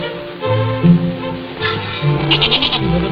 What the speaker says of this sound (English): Say, Bert is a very warm goat, isn't she?